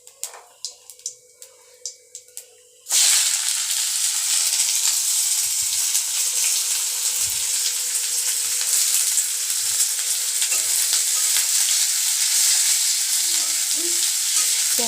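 Chopped onions hit hot oil with crackling cumin seeds in a pan, then fry in a loud, steady sizzle that fills the rest of the clip, with a few soft stirring scrapes and no talk.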